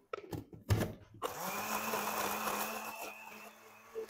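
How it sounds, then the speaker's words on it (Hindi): Onions and yogurt blended in an electric grinder: a few knocks and clunks, then the motor spins up into a steady loud whir that runs for nearly three seconds before dropping. "ये एक पाव दही डाल के हम इसको ग्राइंड करेंगे"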